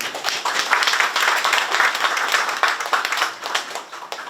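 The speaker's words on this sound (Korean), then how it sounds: "환영의 박수는 보내주시기 바랍니다" Welcoming applause from the audience at the 17th May Mothers Award ceremony, a steady, dense clapping that rises quickly and holds for several seconds at moderate loudness with no talk over it.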